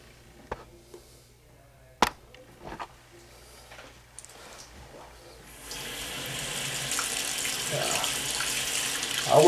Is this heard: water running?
yes